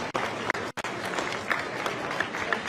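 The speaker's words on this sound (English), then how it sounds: "A round of applause for Mr." Audience at a cross country championship awards ceremony applauds an award recipient, a steady spread of claps with a few sharp accents and a brief break near the start.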